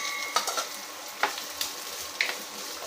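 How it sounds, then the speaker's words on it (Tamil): Two finely chopped onions sauté in a pan for a peerkangai (ridge gourd) gravy, giving a soft steady sizzle with a few sharp scraping stirs of a spoon against the pan. "வெங்காயம் நல்லா வதங்கட்டும்"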